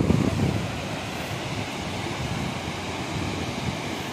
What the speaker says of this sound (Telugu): సూపర్ ఉంది కదా, చూస్తున్నారు కదా ఫాల్స్ ఎలా పడుతున్నాయో.